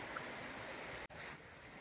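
Creek swollen by recent rain on the Appalachian Trail, a soft, steady rushing of flowing water heard from a little distance, quiet and continuous with a brief dropout partway through.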